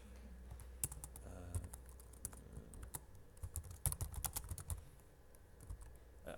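Someone types a note on a computer keyboard, quiet bursts of irregular key clicks with a few louder taps, close and faint with no talking.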